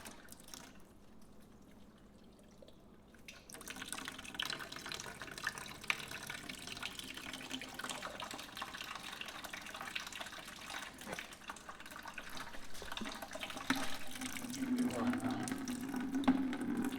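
Water pours and trickles steadily as coolant drains from a motorbike engine's cooling system into a bucket, a continuous close splashing flow that grows slightly louder toward the end.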